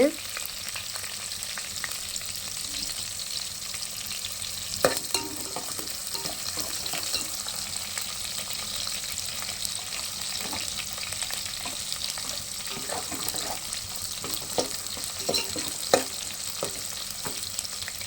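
Onions sauté in a pan for a Tamil dried-fish curry, giving a steady, even frying hiss with occasional soft stirring taps, close and continuous with no talking.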